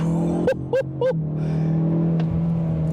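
A 2024 Ford Mustang EcoBoost turbocharged engine in sport mode drones steadily from inside the car, while a voice briefly exclaims over it near the start.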